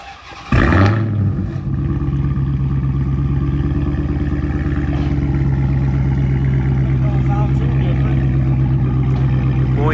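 Dodge Hellcat with its mid muffler and resonators cut off fires up and revs, a sharp loud start followed by a deep, rough, crackling exhaust burble held close and continuous.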